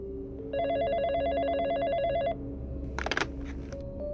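A phone trills in a rapid warbling ring for about two seconds, followed by a short clattering burst, with no voices present.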